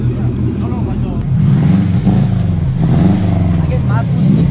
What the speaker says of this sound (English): Yeah, I love the way the boxer engine sound, man.